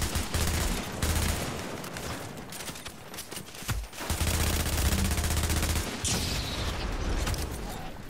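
Rapid video game gunfire as characters shoot at rogues in a chaotic battle, dense bursts of shots and booms continuing almost without pause, loud and close throughout.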